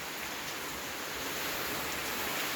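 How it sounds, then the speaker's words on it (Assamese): Steady light rain falls outdoors, an even hiss of drops on surfaces that stays constant and fairly faint throughout with no voices. "অলপ বৰষুণৰ বতৰ"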